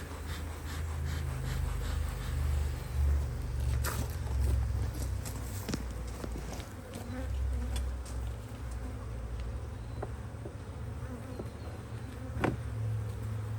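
Honeybees hum inside an opened hive box during an early spring inspection, a low, even drone that carries throughout with scattered light clicks and taps from handling the frames.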